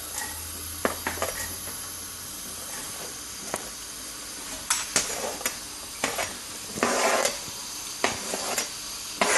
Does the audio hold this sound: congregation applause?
no